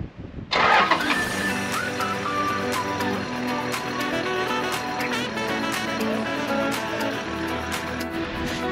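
A car engine starting while trying to drive out of sand on an offroad self-drive in Namibia, a brief crank followed by a loud, close engine running and revving steadily.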